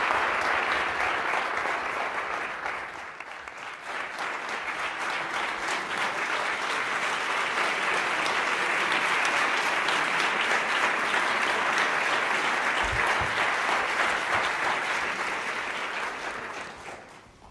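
Audience applause at a campus debate on affirmative action, a long dense wash of clapping from a sizeable crowd that builds, holds steadily for many seconds, then fades at the end.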